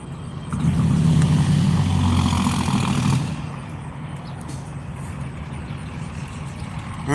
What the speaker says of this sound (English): Trish, we're camping at the Pilot truck stop.